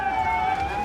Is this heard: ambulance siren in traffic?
yes